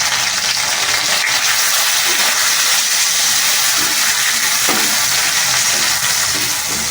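Small pieces of bay leaf frying in oil, a steady close hiss of sizzling that runs unbroken and fairly loud throughout, with no voices.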